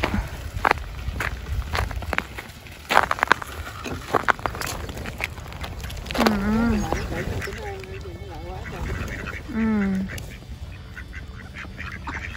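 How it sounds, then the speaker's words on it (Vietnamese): Ducks on a frozen lake in winter snow quack and honk several times at a moderate distance, mixed with outdoor noise and people talking. "Mấy con vịt bây giờ nó đang đi ở trên băng, đi trên mặt hồ luôn, không cần bơi nữa"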